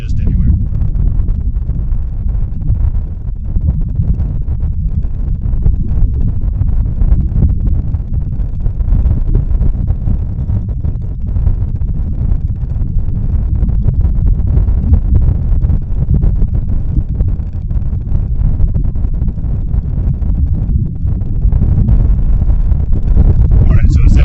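Heavy low rumbling wind buffets the microphone continuously, a dense roar with no clear pauses, close and loud throughout.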